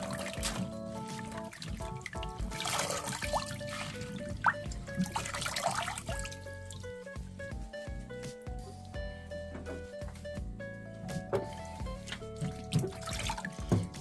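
Tap water runs and trickles in a sink while kale is washed, a soft continuous stream with splashes and handling noises, quiet and close, alongside faint kitchen sounds.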